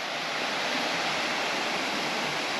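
Manneera waterfall at Konni in Pathanamthitta, Kerala, gives a steady, dense rush of falling water that fills the scene evenly and continuously without a break.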